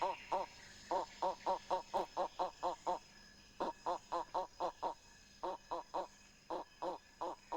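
A hunter mimics a monkey call with his voice in the Congo forest: bursts of short rhythmic nasal hoots in quick groups of four to eight, with brief pauses between, close and clear against a quiet background.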